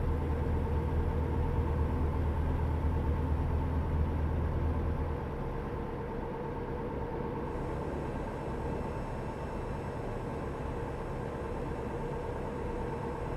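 A Peterbilt truck engine runs in a trucking video game, a steady low droning hum with no change in pitch. It sits at moderate level, with a slight drop in loudness partway through.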